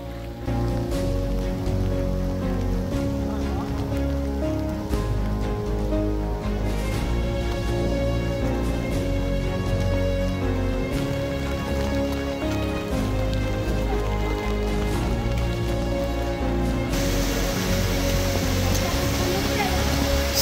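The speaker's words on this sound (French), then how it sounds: "Cette fois c'est vraiment une bonne pluie." Heavy thunderstorm rain pours continuously on a mountain trail in a dense, hissing wash, steady throughout, with splashing intensity that swells slightly near the end.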